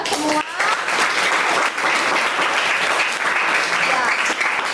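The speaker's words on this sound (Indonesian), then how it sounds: "Sekali lagi tepuk tangan untuk kita semua." Classroom applause from a high school class at the end of a lesson, a dense, steady clapping that fills the room for several seconds, with a voice briefly audible near the start.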